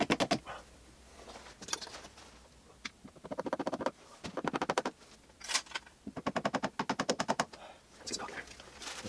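A caulk gun squeezing caulk into a ceiling joist bay during soundproofing, heard as close bursts of rapid ratcheting clicks in repeated runs, with short pauses and faint background sounds between them.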